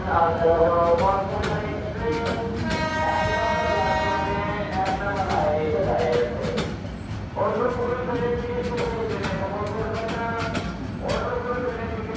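The 800 Down Jamalpur Express pulls out of a station bound for Dhaka, sounding long, loud horn blasts over the rumble and clatter of the carriages while someone talks throughout.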